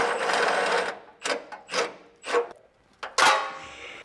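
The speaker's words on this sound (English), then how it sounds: "you're gonna have to back it out with a ratchet or an impact gun" A ratchet backs out a tensioned bolt under a Toyota 4Runner during a catalytic converter shield install, giving a run of rapid clicking bursts with short pauses between strokes.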